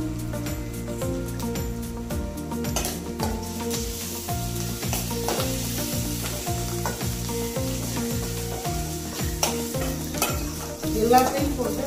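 Ginger garlic paste frying in a pan for egg curry, a loud, steady sizzle with rhythmic, regular scraping and stirring knocks throughout, and a brief clatter near the end.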